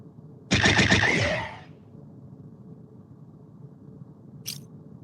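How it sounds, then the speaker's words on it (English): A short burst of rapid-fire phaser shots in the Star Trek Bridge Crew VR game, a loud rattling volley lasting about a second, followed by quiet ambience and a brief faint high blip. "Power of phasers."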